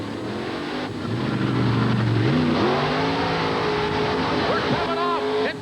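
Monster truck Hercules revving hard during time trials at a 1988 Columbus, Ohio monster truck event, the engine note climbing and surging in loud rising sweeps while an announcer talks over it.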